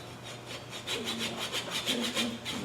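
A hand saw cuts through a wooden workpiece held on a lathe, producing a steady rasping back-and-forth stroke, roughly four to five strokes per second, close and moderately loud with no talking.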